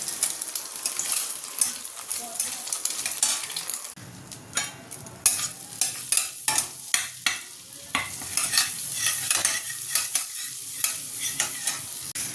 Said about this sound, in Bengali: আগে এটা ভেজে নিই, তারপরে এই কড়াতে বাটার দেবো, দিয়ে এটাকে সটে করবো